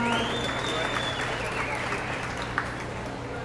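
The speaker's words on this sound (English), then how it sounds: "Give them a round of applause" An audience at a beef cattle show applauds an exhibitor. The clapping is a steady, dense wash from a crowd in a large hall that slowly fades, with a voice over a loudspeaker at the start.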